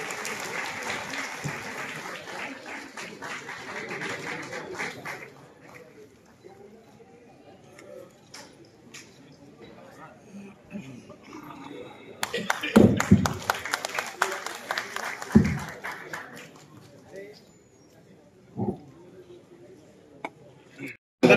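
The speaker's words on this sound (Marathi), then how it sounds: "जोरदार टाळ्या होऊ देत खरं तर." An audience claps at a Samaj Ratna award ceremony honouring a political leader, with scattered applause building and swelling in bursts while voices carry on over it.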